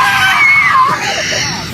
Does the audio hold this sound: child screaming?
yes